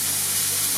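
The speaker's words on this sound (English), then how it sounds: "If you can hear a noise in the background, that's my dishwasher" A constant broadband hiss and low hum of a dishwasher running, steady and unchanging throughout.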